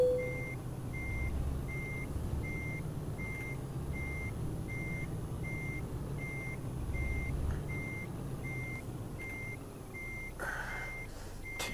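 A heavy truck backing up a trailer in Euro Truck Simulator 2 sends out steady, evenly spaced reversing beeps over a constant low engine drone, with a brief hiss near the end.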